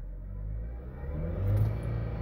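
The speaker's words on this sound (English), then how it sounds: "See, I'm giving it gas and it's not going anywhere." A 2011 Jeep Patriot with a failed CVT transmission, in drive but not moving, gives a steady low engine rumble that swells slightly as the throttle opens, close and continuous.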